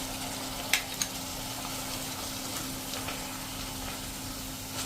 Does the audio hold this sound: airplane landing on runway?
no